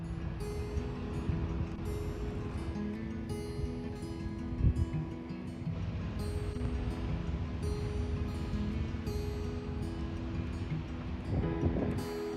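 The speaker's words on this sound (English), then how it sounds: "The wind has sort of calmed down a bit, but it is cold and it is still windy." Wind gusting steadily across an ocean campsite on a cold evening, a low, faint rushing roar with rumbling microphone buffeting and a few soft thumps.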